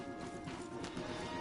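Horses' hooves in Red Dead Redemption 2 after the riders dismount, a steady close clip-clop over a dense, busy ambient bed, with no voices.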